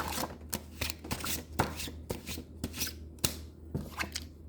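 Tarot cards are shuffled by hand in a steady run of crisp, close riffling snaps at a regular rhythm, with no talking over them.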